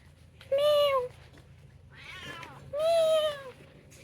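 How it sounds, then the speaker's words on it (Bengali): A cat beside a puja pandal meows twice, each call a clear, close, rising-then-falling cry separated by a short pause with some soft background noise in between. "আর এখানে একটা বিড়াল দেখো"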